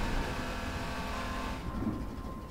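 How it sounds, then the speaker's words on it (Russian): A car in the video game Garry's Mod accelerates with a rumbling, steady engine drone that holds a faint tone, then fades somewhat after a second and a half, with no talk over it. "Только нужно на shift нажимать, чтобы был разгон."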